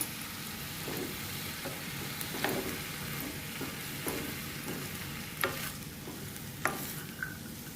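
Brinjal sautéing in an oiled pan, a soft steady sizzle broken by repeated spatula scrapes and taps as it is stirred, close and moderately quiet with no voices.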